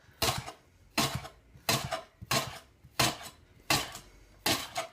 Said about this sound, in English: all we're going to do is we go in to slice these leeks right the way up